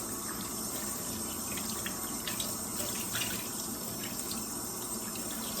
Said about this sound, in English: I'm still gonna give it a good rinsing